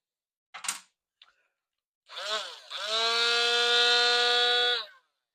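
A cheap cordless cut-off tool spins up after a couple of short clicks, then runs alone at a steady high whine for about two seconds before cutting off, close and fairly loud.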